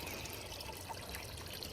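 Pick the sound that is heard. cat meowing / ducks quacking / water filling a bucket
water filling a bucket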